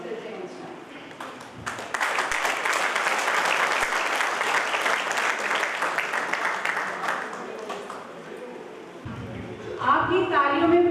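Sustained audience applause at a Hindi poetry gathering (kavi sammelan), a dense wash of many hands clapping that holds steady for several seconds, then thins out as a voice begins speaking over the tail.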